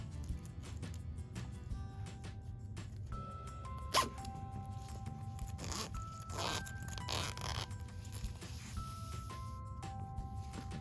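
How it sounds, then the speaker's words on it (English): A zipper head is worked onto a number 5 zipper tape for a sewing project, giving small scraping and clicking sounds with one sharper snap, all quiet and close over soft background music. "Adding a zipper head to your zipper is easier than you actually think."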